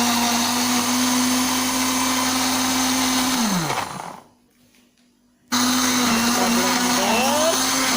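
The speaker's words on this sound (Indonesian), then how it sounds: "Kita blender, kasih asam sedikit biar cantik hijaunya." A kitchen blender whirs loudly as it purees wilted green chilies with a little acid added, running steadily, winding down to a brief stop, then starting up again at full power.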